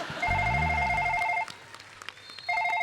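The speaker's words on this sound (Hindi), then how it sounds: "बाहर फोन आ रहा है सिक्योरिटी वालों का" A telephone rings with a warbling electronic tone in two bursts separated by a pause, fairly faint, with a low voice-like hum under the first ring.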